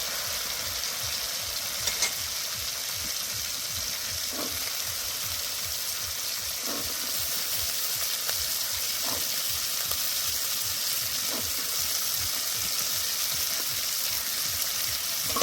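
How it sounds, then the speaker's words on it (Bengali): Green peas frying in hot oil for a Kashmiri-style cabbage dish, a steady close sizzle with faint periodic scraping of a spatula stirring the pan. "ভালো করে কষে নিয়েছি, এইবার দিয়ে দেবো মটরশুঁটি।"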